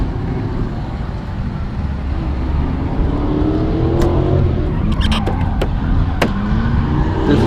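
A BMW E36 M3 drifts, its engine droning loud and steady while several short, sharp tire squeals break out in the latter half.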